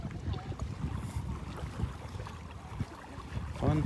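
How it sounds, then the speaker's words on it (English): Boats heading out from a beach at Delnor-Wiggins on a Sunday morning, heard as a low engine rumble under gusty wind and breaking surf, with a louder burst near the end. "A couple more boats heading out here."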